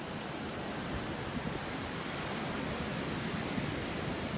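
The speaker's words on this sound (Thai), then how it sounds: "ทะเลที่นี่คลื่นสูงมาก" High sea waves break and surge steadily on a crowded beach in Abidjan, a loud continuous wash of surf with wind, no pauses and no voices.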